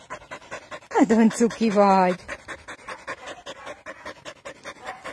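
A puli dog pants rapidly and loudly up close for about a second, between affectionate remarks from someone speaking nearby.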